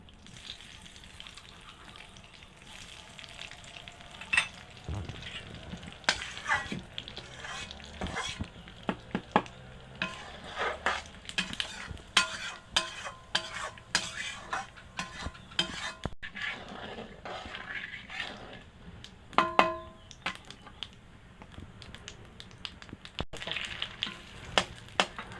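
Cumin seeds crackle in hot oil in a pan for a jackfruit and chicken curry, a busy spatter of sharp pops and sizzles with occasional utensil knocks, close but moderately quiet and without talk.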